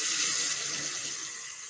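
Water pours steadily from a container into a dog's water bowl, a continuous close hissing splash that fades slightly toward the end.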